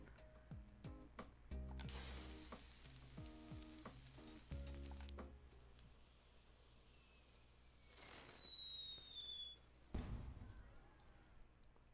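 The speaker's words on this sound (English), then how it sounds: "I love fireworks." Fireworks in the video game Boyfriend Dungeon crackle and pop in quiet, scattered bursts with whistling streaks, set against soft game music.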